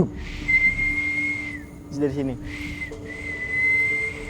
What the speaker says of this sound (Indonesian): Gue ngedengar siulnya Bu tuh dijawab pakai siulan lagi.